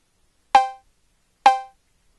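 Cowbell sample from the Beatmaker 2 drum machine app, struck twice about a second apart, each hit a bright metallic clank with a quick decay, isolated against silence.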